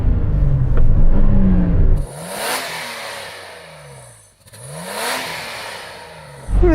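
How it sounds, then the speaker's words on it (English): A standard Nissan Patrol engine revs up twice, each throttle blip rising into a loud exhaust roar and falling back to idle. It is close by, with no talk. "would you mind just revving up that standard Nissan Patrol, please?"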